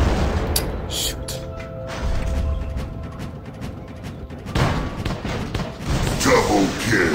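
Robot weapons fire and explosions from the War Robots video game: repeated heavy booms and bursts of gunfire, loud and dense throughout, with a voice speaking under the battle noise.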